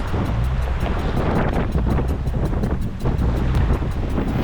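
Sea waves slap and wind buffets around a sea kayak bouncing on rough water off the coast of Scotland near Lismore, loud gusting and splashing filling the whole clip.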